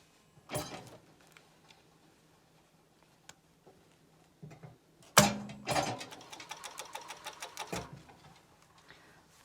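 A sewing machine stitches ribbed knit cuffs onto a hoodie sleeve. A few isolated thumps and short bursts lead into a fast, steady run of rhythmic needle clatter close by, with no talking.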